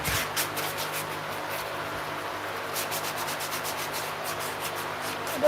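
A sanding block is rubbed by hand over red cedar for a charcuterie board, giving a soft, steady scratchy rasp in repeated back-and-forth strokes, close and fairly quiet, with no talking.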